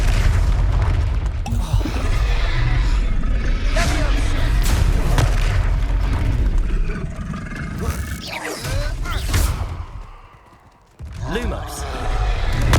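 Spell explosions booming in Hogwarts Legacy combat, several heavy bursts and roars layered over game music and shouted voices, with a brief quieter lull near the end before the action resumes.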